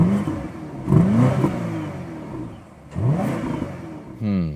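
2024 BMW X6 M60i V8 facelift accelerating, its exhaust rising in two strong revving pulls with rising pitch and a brief lull between, heard clearly from close by.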